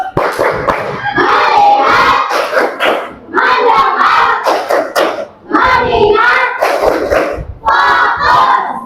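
A classroom of children doing a clapping chant, loud shouted group chanting in four repeated bursts with claps and pauses between them, close by.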